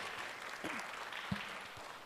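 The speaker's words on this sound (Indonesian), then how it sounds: "Boleh tepuk tangan dulu untuk Pak Rasrendra." An audience at an open house talk on chemistry gives scattered, fairly soft applause, a light steady patter with a couple of louder claps.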